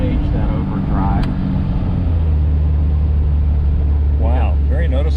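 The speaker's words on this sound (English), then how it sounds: "It has the electric overdrive, which some Healy enthusiasts suggest actually give it 7 gears rather than 4. We're going to engage that overdrive." A 1967 Austin-Healey 3000 MKIII six-cylinder engine drones steadily from inside the moving car, its low pitch dropping as the electric overdrive engages, with people talking over the rumble.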